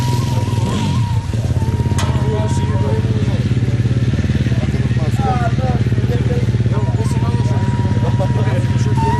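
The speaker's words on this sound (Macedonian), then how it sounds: "Го приготвувате моторот." A rally motorcycle engine runs steadily and close, having just had a tyre fitted, with a constant mid-range drone and some clatter throughout while people talk over it.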